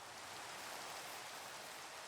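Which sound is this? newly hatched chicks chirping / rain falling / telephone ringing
rain falling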